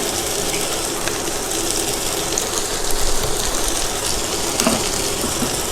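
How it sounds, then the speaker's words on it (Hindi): Oil frying in a pan while Thai noodles are being made, a steady dense sizzle with small crackling bursts, close and continuous with no one talking. "पैन में थोड़ा सा और तेल डालेंगे।"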